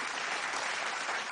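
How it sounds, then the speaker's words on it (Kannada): An audience at a televised reality show, Suvarna Superstar Season 2, claps in a dense, steady burst of applause that fills the whole moment. "ಚಪ್ಪಾಳೆ ಹಾಕಿದ್ರೆ"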